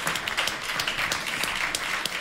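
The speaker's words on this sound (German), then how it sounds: "Ein Applaus für Marlene, bitte" A theater audience at a cabaret show applauds, a dense, lively stretch of clapping that fills the room for a couple of seconds, with no one speaking over it.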